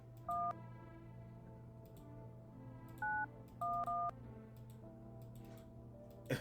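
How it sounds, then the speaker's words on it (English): A telephone is dialed in the video game No, I'm Not a Human: several clear touch-tone beeps sound one at a time, some paired closely, over a low steady hum and faint ticking. "Can I use the phone?"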